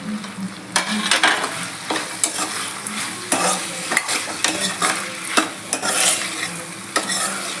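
Tomato and chili stirred into hot oil for batata poha, frying with a steady sizzle while a spoon scrapes the pan in repeated sharp strokes, close and fairly loud.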